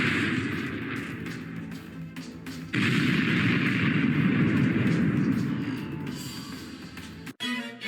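Missile strike in the KTANE Air Strikes module: a sustained roaring, rumbling blast that swells suddenly, holds loud for several seconds, then fades before a brief sharp burst near the end.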